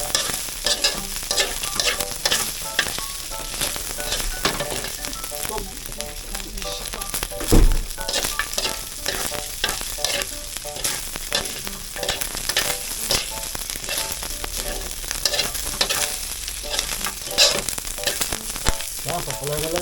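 Ingredients for ginataang langka being sautéed in a pan, a loud continuous sizzle with constant scraping and stirring of a utensil, close up, one heavier knock near the middle, no speech over it.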